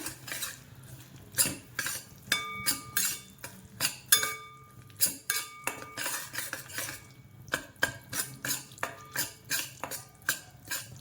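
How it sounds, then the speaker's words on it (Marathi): Jaggery melting in a pan over a low flame while a utensil stirs it, giving repeated scraping clinks of metal against the pan in a steady, close rhythm with no talking. "सारखं हलवत हलवत हलवत राहायचं याला"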